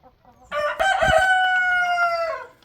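A chicken, a hen that had stopped laying, crows once, loud and close, a long drawn-out call lasting about two seconds with a few clucks mixed in.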